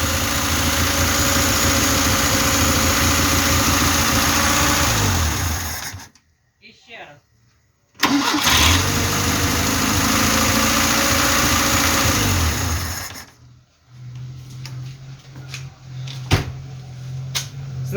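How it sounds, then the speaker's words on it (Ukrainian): A VAZ 2105 car engine, first start after a year standing, idles with a steady, loud mechanical rumble, cutting out twice into near silence before running again with faint clicks. "двигун уже працює"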